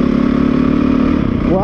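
A motorcycle engine runs steadily in third gear and holds a close, buzzing, even drone, with a voice speaking over it at the end.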